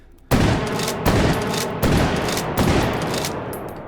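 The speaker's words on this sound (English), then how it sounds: "this is more of a fire from the hip kind of shotgun" Four loud shotgun blasts fired from the hip in the VR game H3VR, each a sharp boom spaced under a second apart and trailing off in a rolling echo, with no voices.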